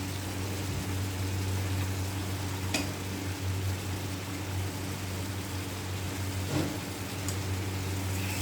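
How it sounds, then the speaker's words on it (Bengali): Egg curry sizzles steadily in a pan while it is gently stirred, a constant close frying hiss over a low hum with a couple of brief scrapes. "এবার খুব হালকাভাবে নাড়তে হবে যাতে কুসুমটা ঘেটে না যায়।"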